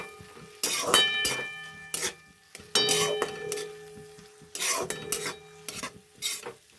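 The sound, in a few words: stirring mung lentils frying in pan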